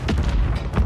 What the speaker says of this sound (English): I'm being mortar struck